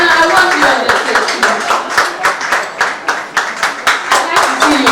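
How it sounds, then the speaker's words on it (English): A crowd at a dinner and awards night claps loudly and close by, settling into a rhythmic, pulsing beat of hands with voices mixed in underneath. "Since I know Nana Rufi, round of applause for him."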